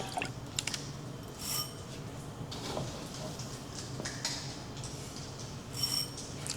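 Bone broth pours out of its container in short liquid trickles and drips, faint and close, over a quiet kitchen background.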